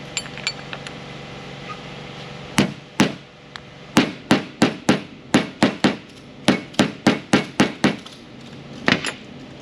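A hammer drives a lip seal into a 24-valve Cummins power steering pump during a rebuild: about seventeen sharp, close metallic knocks, first spaced, then in quick bursts of steady taps.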